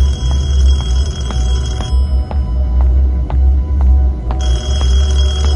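Telephone ringing in the horror video game Detention, loud repeated bursts of ringing at the start and end with short gaps of low droning ambience between them and faint ticking clicks in the pauses.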